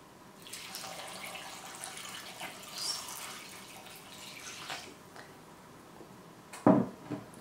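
Water runs steadily from a tap into a pan of unpeeled vegetables for several seconds, then a short clatter near the end.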